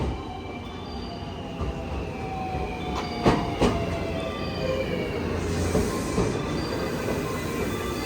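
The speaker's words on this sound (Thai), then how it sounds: "รถไฟไปเกียวโตมาแล้วครับ" A JR train bound for Kyoto pulling into a Japanese station, a steady rolling rumble of wheels on rails with a couple of sharp clanks midway and faint high wheel squeal as it slows.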